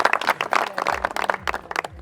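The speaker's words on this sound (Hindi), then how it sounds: "तालियां बजा के इनका स्वागत करना चाहिए" An audience claps to welcome a visiting university vice chancellor at an outdoor gathering on farm fields, a short burst of uneven, moderately loud applause.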